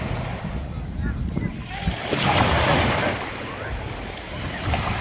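Sea waves washing and surging nearby with gusty wind across the microphone, the surf swelling louder midway and then easing again, with no talking.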